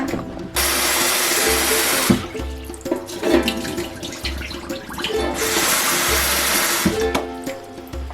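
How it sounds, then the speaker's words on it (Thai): Rice for sushi being rinsed in water, with a steady rush of running water that comes and goes, plus swishing and sloshing from the grains being stirred. No one talks. "ล้างข้าวให้น้ำใสประมาณนี้นะคะ"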